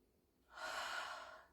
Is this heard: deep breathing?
yes